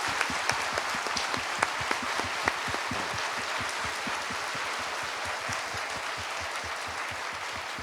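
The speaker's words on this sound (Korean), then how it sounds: "여러분 큰 감사의 박수를 우리 목사님께" Sustained applause from a church congregation thanking their pastor, dense steady clapping that stays loud and even for the full stretch with no voices over it.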